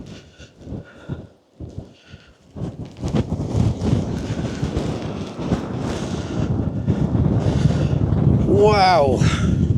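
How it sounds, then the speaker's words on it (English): Extremely strong wind buffets the microphone outdoors on a landscape photography trip along Scotland's NC500, building into a loud continuous roar after a few seconds of quieter gusts, with brief voice sounds early on. "I don't know if that wind's coming through on microphone, but it's extremely windy."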